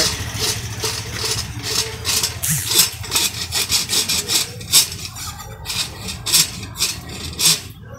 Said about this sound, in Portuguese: Todo processo de casqueamento aí o nosso irmão Cis faz